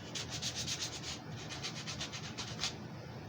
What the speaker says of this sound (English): we're going to go down now to a 120 grit sandpaper.